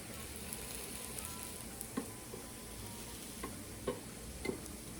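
Vegan sausages sizzle steadily in a pan as they brown, a soft continuous crackle with a few faint ticks and clicks from utensils, no voices.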